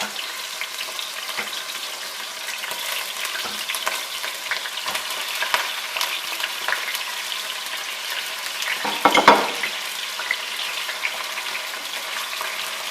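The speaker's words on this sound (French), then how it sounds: "j'ai des queues de langouste Oui. que je vais faire revenir dans l'huile de tournesol." Spiny lobster tails fry in sunflower oil, giving a continuous even sizzle with faint stirring scrapes and a brief louder crackling burst late on, close and uninterrupted by talk.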